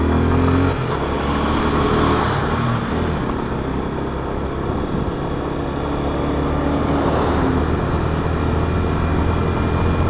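A Yamaha Fazer 250 ABS motorcycle cruises steadily in fourth gear, its engine droning continuously under heavy wind rush, close and loud with no big changes in pitch.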